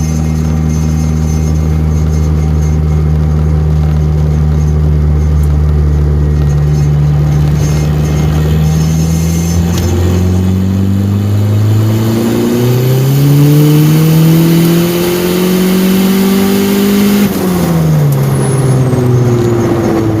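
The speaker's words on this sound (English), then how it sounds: "Gonna do another pull up here. See if we can run it all the way through the gear." A turbocharged Ford Probe GT with an HX35 turbo at 20 psi pulls hard through the gears toward 6,200 rpm. The loud engine note climbs and drops at each shift, close and continuous.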